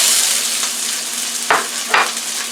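Two medium chopped onions sizzle in a hot frying pan with a steady, close hiss, broken twice by sharper rustling bursts as the pieces are stirred or tossed.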